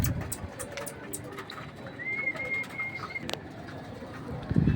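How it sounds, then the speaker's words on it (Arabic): Pigeons shut inside a rooftop loft give a soft, sustained coo in the middle of the clip, mixed with faint fluttering and shuffling, fairly close and low in level. "لان الحمام طبعا لسه خايف من المكان وخايف من الطبقه"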